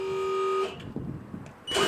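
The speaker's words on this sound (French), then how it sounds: "Vous faites un essai du bon fonctionnement de l'avertisseur et de l'éclairage de signalisation s'il existe." Warning horn on an aerial work platform being tested: a steady electronic tone sounds loud and close, stops, then sounds again briefly, with mechanical noise in between.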